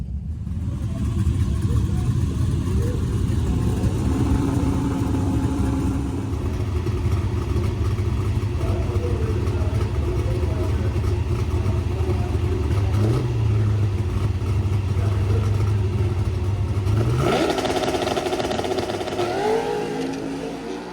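A drag race car idles in the staging lanes at Drag Week 2023, its engine rumbling steadily up close with a lumpy idle, then blipping the throttle in a sharp rev near the end.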